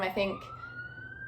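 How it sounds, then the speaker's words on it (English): An emergency vehicle siren holds a steady, distant wailing tone that continues after a brief stretch of someone talking at the start. "sorry about that siren if it's annoying."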